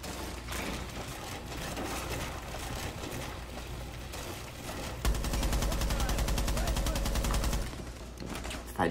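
Gunfire in Rainbow Six Siege, scattered shots followed by a loud, sustained burst of rapid automatic fire lasting a few seconds, with a voice talking over parts of it.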